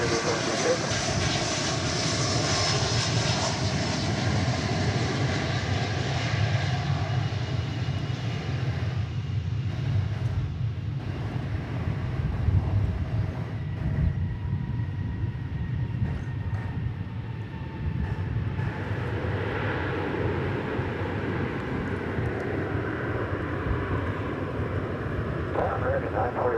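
A jet airplane departing a runway at DFW Airport, a broad continuous engine roar that holds steady throughout, with radio chatter faintly mixed in beneath it.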